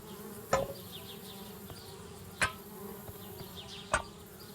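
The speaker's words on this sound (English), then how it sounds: "Darn bees, trying to move into our tree house." Bees buzz around a tree house in the video game Anna's Quest, a faint steady insect drone under low ambience, broken by three sharp percussive ticks spaced a couple of seconds apart.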